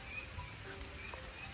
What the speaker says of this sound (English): we're getting a little light rain